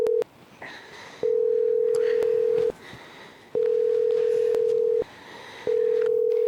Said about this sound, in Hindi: फोन कर उसको जल्दी।